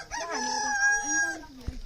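A rooster crows once, close and clear, in a long rising and falling call in a rural village setting.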